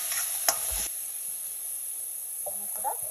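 Grated tomato and vegetables sizzle in a pan while being sautéed for ragi upma, a steady frying hiss running throughout with a few stirring clanks near the start and end.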